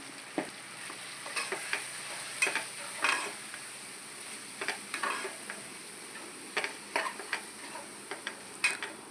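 Spices sizzling and crackling in hot oil for a fish curry, a steady faint frying hiss broken by irregular pops and stirring scrapes, close by with no talking.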